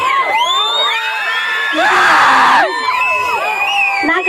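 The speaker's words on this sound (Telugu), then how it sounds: "నాకు విజిల్స్ కానీ చప్పట్లు కానీ నాకు కనపడేలాగొద్దు, వినపడేలాగా కొట్టండి" An audience at a dance performance in Kothapeta cheers, whoops and whistles, with a loud swell of noise in the middle and voices shouting throughout.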